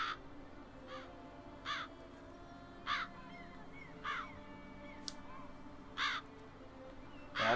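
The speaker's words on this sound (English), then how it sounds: "That's a lot of crows." Crows cawing in The Witcher 3: Wild Hunt, Blood and Wine, a flock giving repeated harsh caws at roughly one-second intervals over a low ambient hum, moderately distant.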